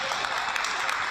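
Crowd applause at a basketball grand final honouring the floor wipers, a brief, dense burst of clapping that fills the whole moment without any voices.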